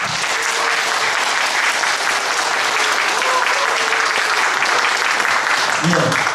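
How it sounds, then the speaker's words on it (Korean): Sustained audience applause for a performer at a musical concert, a dense, even wash of many hands clapping steadily throughout, with faint voices underneath. "이승현 선생님 큰 박수로 합니다"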